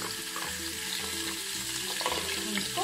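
Ginger garlic paste sizzles and fries in hot oil with cumin seeds, a steady, close crackling with a stirring texture throughout and no talking.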